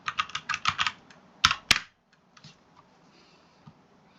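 Quick bursts of keystrokes on a computer keyboard, a rapid run of clicks followed by two sharper taps and a few scattered faint ones, close and fairly quiet with no voices.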